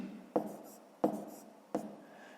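Three firm strokes of writing land on a surface as a math expression is written down, each a crisp scratchy attack fading quickly, evenly spaced about two-thirds of a second apart, close and alone.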